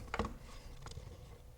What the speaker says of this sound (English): Now we have another Phillips head screw here at the back. We're going to remove that.